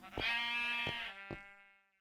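Three bleats from a Minecraft sheep, each a short harmonic cry with a sharp onset near 0.2, 0.9 and 1.3 seconds, close and clear, with a faint tail fading out. No talking.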